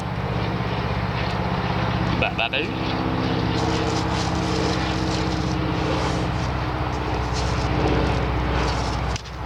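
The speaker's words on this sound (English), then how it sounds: "Let this plane go by." A propeller airplane drones past overhead, a loud steady engine hum running throughout beneath an outdoor emergency stove setup, with a brief knock partway through.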